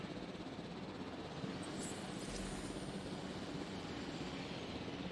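A helicopter in the dinosaur park game Jurassic World Evolution holds a quiet, steady mechanical drone throughout, unchanging and without distinct beats, with no talk over it.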